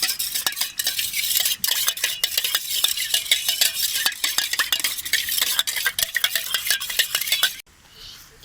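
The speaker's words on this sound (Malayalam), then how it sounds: "വെള്ളത്തിനകത്തിട്ട് നല്ലോണം ഒന്ന് കലക്കാം." Soap being stirred vigorously into water in a bowl for making bubbles, a quick, continuous run of splashy clinks and swishes close by, stopping abruptly near the end.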